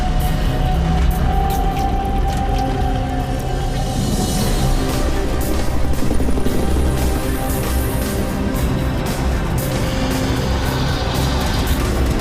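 A loud, continuous helicopter engine roar fills the scene, steady and close, with no speech over it.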